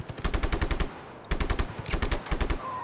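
Automatic gunfire in Just Cause 3 from a long-distance headshot: two sharp, rapid bursts of shots, each about a second long, separated by a brief lull, loud and close with no talking.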